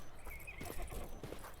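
A horse neighs in a medieval setting in the game 1428: Shadows over Silesia, a short faint whinny mixed with clip-clopping hooves.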